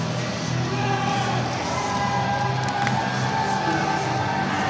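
Steady crowd noise from a packed professional wrestling show, a continuous roar of cheering voices holding at an even level throughout.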